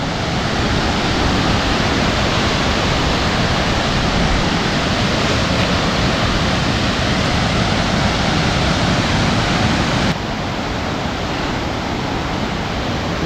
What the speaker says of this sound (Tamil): மேகம் அருவி பயங்கரமாக இருக்குங்க மக்களே